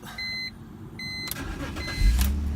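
BMW E46 with about 200,000 miles cranking and starting: door chime beeps first, then a brief starter whir and the engine catching into a loud, steady idle rumble up close.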